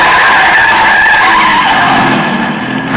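Car tires squeal in a long, loud, continuous skid as the car swerves hard in the street to miss a jaywalker, heard alone with no talk.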